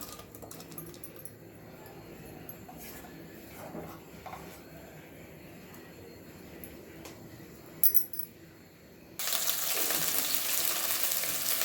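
Onions go into a pan with green chilies for chicken biryani; quiet handling clatter and light taps give way near the end to a sudden, loud, sustained sizzle.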